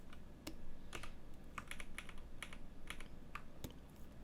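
Computer keyboard keys tapped in a Blender tutorial while pressing the Ctrl+T shortcut, a series of crisp, close clicks in short irregular clusters over a faint room hiss, with no one talking.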